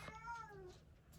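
A house cat gives a single short, drawn-out meow indoors, fairly faint and close, with no talking over it.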